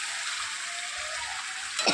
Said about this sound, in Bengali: দেখো ওখানে মাংস কষানো চলছে